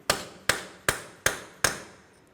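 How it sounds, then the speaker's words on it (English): Five sharp metallic hammer blows on a punch, struck at an even steady rhythm, knock a 2005-2010 Chevrolet Cobalt CV axle shaft loose, each ringing briefly and close. "Now let's continue on with a hammer and a punch."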